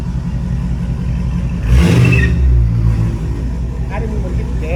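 A V6 muscle car with a semi-straight pipe exhaust, muffler cut off but rear baffles left in, gives a short, deep, loud rev that swells and falls back to a rumbling idle, with someone talking over it.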